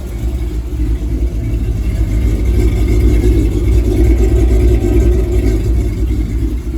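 A shop-built buggy engine idles steadily after being fired up, with a freshly wrapped exhaust giving a deep, even low rumble and a slight rhythmic pulse, close and loud throughout.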